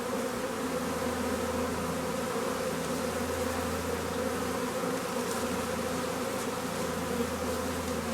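A honeybee swarm hums continuously in front of the hive during a swarm capture, a dense, steady, close buzzing drone of many bees with no talking.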